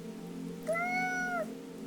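One drawn-out meow from a cat, clear and tonal, rising slightly and falling over under a second, set against a steady low hum and a soft rain-like hiss, with no talk.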